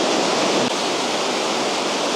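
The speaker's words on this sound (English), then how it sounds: "these little streams just bubble down" Small streams and little falls cascading over rocks into turquoise water beside boardwalks in Bosnia, a steady close rushing hiss of flowing water without pause.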